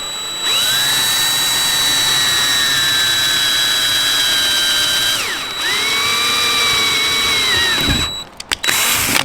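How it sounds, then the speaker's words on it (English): A power drill boring a pilot hole in an aluminum roof rack, a loud, close, steady high whine that dips briefly mid-way, resumes, then winds down into a few clunks and rattles. "The main thing is we don't want a bunch of aluminum shavings getting up into this area here, so I'll just prop this up, do a little pilot hole."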